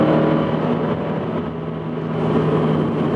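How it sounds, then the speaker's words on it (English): Subaru BRZ with an aftermarket exhaust pulling in third gear, a steady droning engine note heard from inside the car, rising slightly toward the end with no talking. "my exhaust. You may be able to hear it right now."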